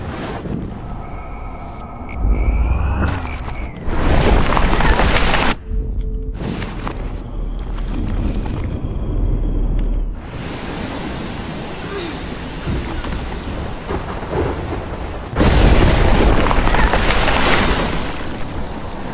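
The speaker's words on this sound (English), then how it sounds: "I've never seen a storm like this in Oregon." Heavy rain pours steadily through a thunderstorm in the video game Life is Strange, set in Oregon, with loud rumbling thunder rolling in and swelling over several long bursts.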